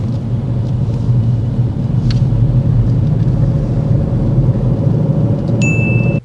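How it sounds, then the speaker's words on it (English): Steady loud road rumble from inside a car on a dual carriageway, a continuous low engine and tyre drone held at an even level throughout, with no talking. "Kenia builds up speed well on this dual carriageway."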